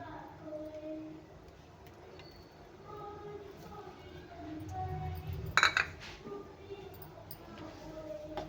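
A metal spoon scrapes and stirs soya chunk curry in a pot, with a few sharp clinks near the end, as a voice talks quietly in the background.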